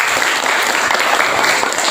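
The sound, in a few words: class applause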